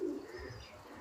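A pigeon coos once, low and soft, close by at the start, followed by faint murmuring and rustle in a quiet space.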